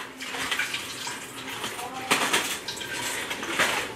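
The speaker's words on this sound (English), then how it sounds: "I just unwrap one side and pour down the juice." Juice from foil-wrapped baby back pork ribs pouring out of one unwrapped side into a pan, a splashy liquid trickle with crinkling foil and clinks, close and fairly loud.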